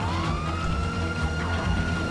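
A vehicle siren in GTA V wails continuously with a rising, steady tone over a low engine rumble, loud and close throughout.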